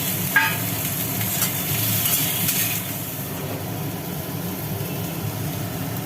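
Bitter gourd curry fries in a pan, a steady broadband sizzle with occasional stirring clatters, close and continuous with no talk.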